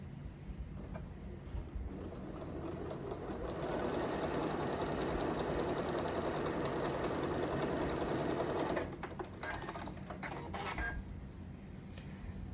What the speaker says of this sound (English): I thought I'd jump on here and sew just a little bit